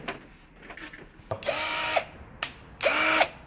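A BullDozer 20V cordless impact driver driving a screw into metal: two short bursts of loud whirring and hammering, each about half a second long, after quieter clicks and handling noises in a workshop.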